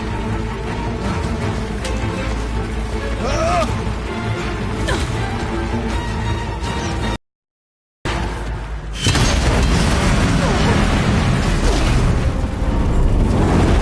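Explosive ammo blasts in the video game Horizon Zero Dawn: The Frozen Wilds fill the scene with dense booming crashes, cut by a brief moment of silence, then return as louder, sustained rumbling explosions.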